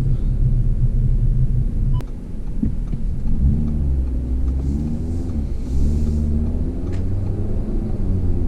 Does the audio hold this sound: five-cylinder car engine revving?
yes